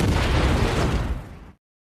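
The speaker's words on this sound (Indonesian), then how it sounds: "ranjau itu tiba-tiba meledak" A single massive land mine explosion roars with a dense rumbling burst, then cuts off abruptly into silence.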